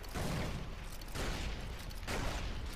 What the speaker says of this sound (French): je lance les grenades tellement haut qu'elles explosent en l'air